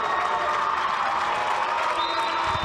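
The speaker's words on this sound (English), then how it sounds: "Beverly crowd cheering for the Panthers" A high school boys varsity basketball crowd at TD Garden cheering for the Beverly Panthers and Everett, a dense, steady roar of voices and applause filling the arena without a break.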